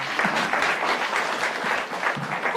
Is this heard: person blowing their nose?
no